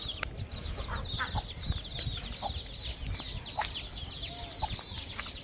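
Hens cluck and chatter in a backyard flock where a mother hen has young chicks, giving a busy stream of short, overlapping calls with thin high chick peeping throughout.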